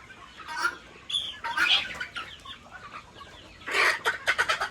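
Native country chickens cluck and squawk in short bursts, several birds close by on a farm flock of about 1,500, with quieter clucking in between.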